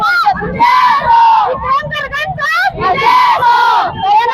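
Women party workers cheering an election victory in Kolhapur's municipal polls, loud rhythmic chanting and yelled slogans rising and falling in bursts, close and energetic with crowd voices throughout.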